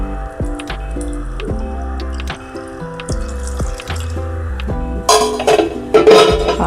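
Milk being poured into a mixing bowl of flour batter with salt, a soft liquid splash and burble over a steady background hum, followed near the end by a brighter, louder rush of flowing liquid.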